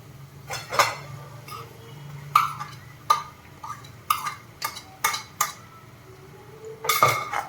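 A spoon mixing mashed potato filling in a metal bowl, a sequence of sharp clinks and scrapes at irregular intervals with quiet pauses between, close and fairly faint, no speech.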